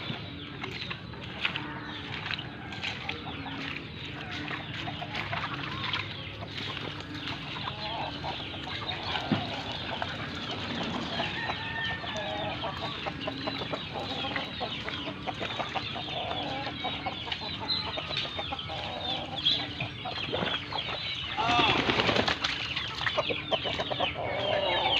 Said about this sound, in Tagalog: Magpapakain muna tayo ng mga manok naman.